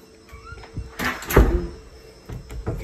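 A locked closet door in a house, rattled and tugged: a couple of thumps and a knocking jolt in the middle, close by, with no talking.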